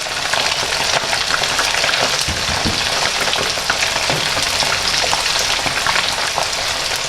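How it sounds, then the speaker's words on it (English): Chicken wings for salt and pepper wings fry steadily in hot oil, a continuous dense sizzle and crackle with no voices, even and close throughout. "They're going to be in the oil for about 10 minutes to cook through."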